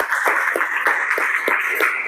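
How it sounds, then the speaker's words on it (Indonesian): Students in a classroom clap for two presenting groups, a steady run of sharp hand claps in an even rhythm, fairly close and moderately loud, with no talking over it. "kita kasih tepuk tangan untuk kelompok 3 dan 4"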